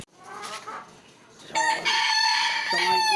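A newly received pet bird gives a rooster-like crowing call, starting with faint clucks and then bursting into a loud, close, drawn-out crow with a harsh, strained tone.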